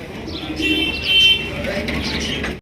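Pigeons coo in soft, overlapping calls with faint chirps, close by and moderately loud, a steady murmur of birds over light background noise.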